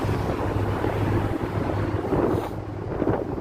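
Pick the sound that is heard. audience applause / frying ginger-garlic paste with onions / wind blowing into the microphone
wind blowing into the microphone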